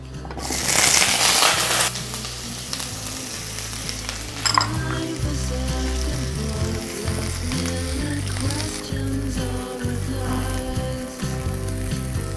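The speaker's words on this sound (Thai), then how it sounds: "คุณผู้ชมจะนำผักลงไปคั่วเร็วๆประมาณ 3 นาทีนะคะ" Vegetables stir-frying in olive oil in a wok, a loud burst of sizzle as they hit the hot oil followed by a steady, continuous frying hiss with a single clack of a utensil, close and alone.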